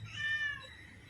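A thirsty kitten gives a single close, drawn-out meow, clear and alone.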